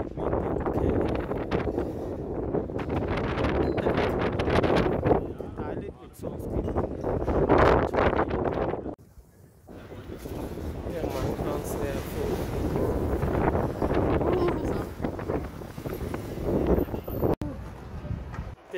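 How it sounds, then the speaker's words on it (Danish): Gusty wind buffets an outdoor microphone on a spring walk through town, a loud continuous rumble that dips briefly midway, with no clear speech above it. "det er lidt vindigt i dag"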